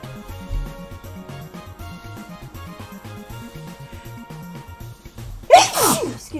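A single sharp sneeze bursts out near the end over quiet game music from Undertale, loud and close after several seconds of soft melodic background.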